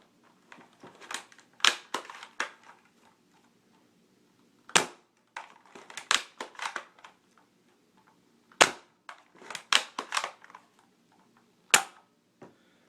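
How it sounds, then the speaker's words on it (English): An Octoshot toy blaster fires a string of sharp, snappy shots, some in quick clusters and some spaced apart by short pauses, loud and close with quiet gaps between bursts. "I'll just go ahead and fire a few off here."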